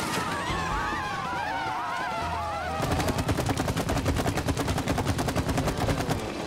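Gunfire in the co-op video game It Takes Two: after a few seconds of game music, a rapid, steady burst of repeated shots rattles on loud and close until the end.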